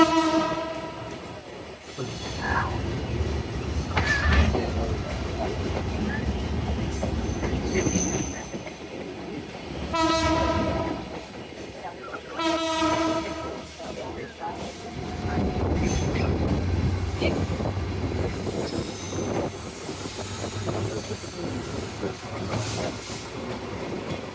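A train rumbles past close by on single dual-gauge track near Gendaria, Dhaka, wheels squealing and clattering, with several loud horn blasts and hissing as the cars roll through.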